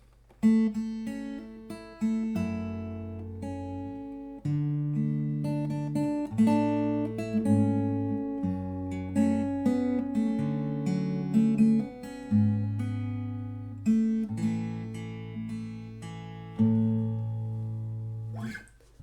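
Plucked acoustic guitar picks out a flowing fingerstyle phrase from the verse of "Goodness of God", bass notes and melody interleaved, close-miked and alone.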